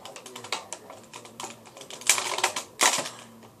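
Scissors cutting open plastic toy packaging for a Rise of the Teenage Mutant Ninja Turtles Baron Draxum figure, heard as a close run of crisp, irregular snips and plastic crackles that grow louder near the end.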